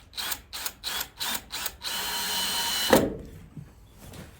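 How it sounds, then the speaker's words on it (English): Power drill driving screws into wooden battens during a narrowboat fit-out, several short bursts of whirring followed by one longer sustained run ending in a clunk, close by. "So I'm just going to stick some screws in along the battens just to rest the wires on"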